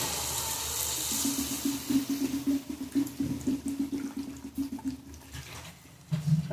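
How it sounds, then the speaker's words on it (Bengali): Water is poured into a pan of cooking bottle gourd curry, giving a moderately loud, gurgling splash that runs steadily for several seconds and then stops. "খুব ভালো করে লাউগুলো কষিয়ে নিয়েছি দেখুন এখন পরিমাণ মতো জল দিয়ে দেবো"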